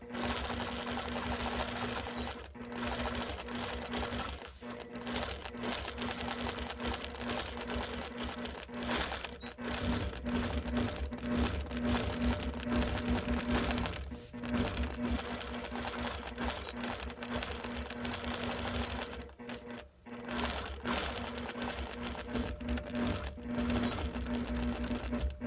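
A sewing machine runs steadily for about twenty-five seconds, stitching small stitches with a constant mechanical whir and a few brief pauses, close and loud, with no talking.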